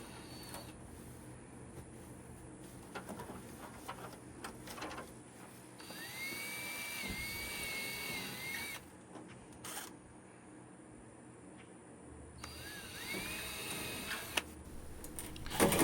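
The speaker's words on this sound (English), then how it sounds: "The next step is drilling pilot holes and screwing the fasteners into place." An electric drill drives fasteners into polycarbonate sheeting on a porch solarium build. Two whining runs of several seconds each stand out close by, between scattered clicks, knocks and handling noises at a quiet level.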